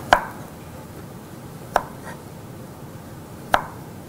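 Knife cutting a washed cucumber into thin sheets on a board: three sharp, isolated chops spaced evenly about every second and a half, close and clear over a quiet room.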